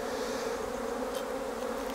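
Honey bees buzz around a hive frame, a dense continuous drone of many wings, close and steady throughout.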